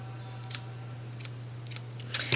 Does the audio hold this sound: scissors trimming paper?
yes